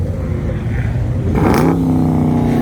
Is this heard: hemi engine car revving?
yes